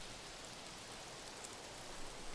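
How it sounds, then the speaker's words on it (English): Steady rainfall in the video game ARMA 3, a soft, even hiss of rain without breaks or distinct drops, faint and continuous, with no voices. "this rain too that's falling should also do a lot in actually masking our advance"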